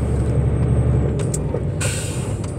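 A truck's brakes, pads removed, scrape metal directly on the disc: a loud, steady grinding roar with brief high squeals and a sharp hiss burst near the end.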